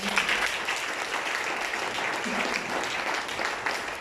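Dense, sustained applause from a church congregation, loud and steady for several seconds, with a faint murmur of voices underneath.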